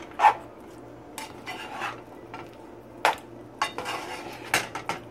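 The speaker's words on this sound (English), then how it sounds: "And so now I'm just mixing my brown rice with my vegetables." Brown rice and vegetables are stirred in a pan for turmeric rice: soft, scattered scrapes and light utensil clinks against the pan, quiet and close, with no talking.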